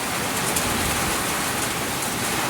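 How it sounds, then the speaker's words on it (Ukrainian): Torrential rain pours down during a fierce thunderstorm with squally wind in Rivne, Ukraine, a constant dense hiss and wash of water on surfaces, loud and even throughout, with nobody speaking. "Просто заливає."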